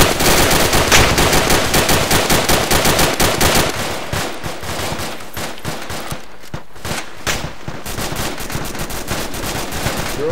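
Rapid machine-gun bursts in a military video game, loud and close at first, then continuing as more scattered, slightly distant shots and crackles.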